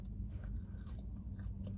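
Crunchy, salty McDonald's fries are chewed close to the mic, with soft repeated crunching bites over a low steady background.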